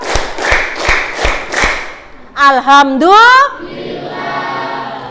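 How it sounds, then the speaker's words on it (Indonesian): Children clap hands five times in an even, steady rhythm, sharp and close by, followed by voices talking. "2 kali tepuk, 3 kali tepuk, 4 kali tepuk, 5 kali tepuk"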